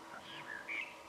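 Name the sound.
starlings alarm calling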